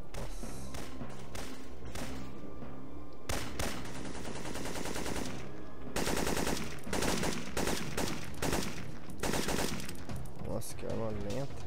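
Gunfire in the PS1 game Syphon Filter 2, Interstate 70 tunnels mission: bursts of automatic shots running almost nonstop through the clip over busy game sounds, with a player's voice talking at times.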